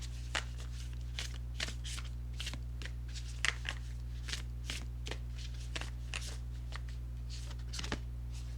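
Tarot cards are shuffled and drawn by hand: a steady run of quick, crisp riffling snaps, quiet and close, over a constant low hum.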